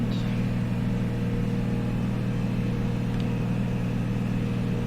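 Piper Comanche piston aircraft engine in the A2A flight simulator, droning steadily during a climb at 2400 RPM, a constant low, even hum with no speech.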